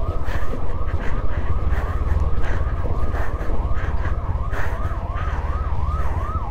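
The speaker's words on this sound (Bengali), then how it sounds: "আবার নিচেকে অ্যাম্বুলেন্সের মতো হর্ন বাজাচ্ছে ভাই।" A military police vehicle on a mountain road from Mangan to Lachen sounds a loud, wailing ambulance-like siren, its pitch sweeping up and down continuously over rumbling engine noise.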